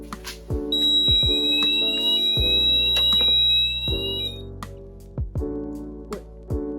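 Smoke detectors on a garage fire alarm system sound during a monthly test, with steady electronic tones and beeps plus ringing alarm bursts that start and stop repeatedly, loud and close.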